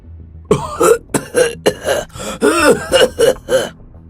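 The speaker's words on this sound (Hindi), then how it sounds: "शेर सिंह जोर जोर से खांसने लगता है" A person coughs repeatedly and forcefully, a rapid series of harsh, throaty hacks close by, with short gaps between bursts.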